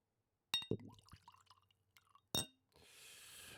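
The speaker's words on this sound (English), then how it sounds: "let's pour them up here" Liquor poured into glasses on a shot ski, faint near clinks and a short trickle followed by a brief splash and a soft sustained pour, quiet with no talking.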